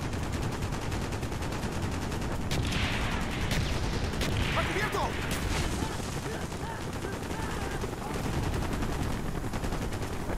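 Gunfire from Call of Duty Black Ops in a Vietnam trench battle: dense, continuous rapid shots and bursts with a few sharper cracks and explosions, a loud busy mix with a voice talking over it.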